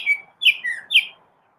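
A small bird chirps outdoors on a cold 34-degree morning, giving four bright, clear calls in quick succession, close and alone against a silent background.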